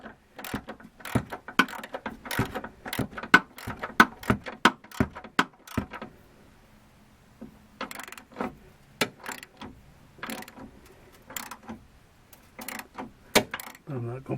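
Ratchet tightening the upper bolts on a 2003 Jeep WJ track bar bracket, rapid clicking bursts in quick runs with a short pause, then more clicking, close and crisp.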